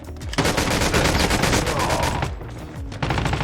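Rapid automatic gunfire from shooting in the mobile game Call of Duty: Mobile, loud and sustained bursts with a short break near the end before firing resumes.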